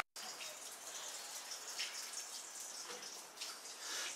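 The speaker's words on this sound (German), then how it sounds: "eine Gaststätte in Dieblich mit einem Mühlrad, was von Wasser angetrieben wird" Steady rushing splash of water turning a water-driven mill wheel at an inn in Dieblich on the Moselle, a continuous broadband wash with slight swells, fairly near and without voices.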